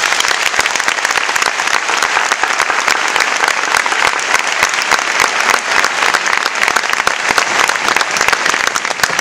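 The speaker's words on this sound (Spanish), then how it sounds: "un fuerte aplauso para ella" An audience at a conference breaks into loud, sustained applause, dense clapping that carries on evenly from start to finish with no talk over it.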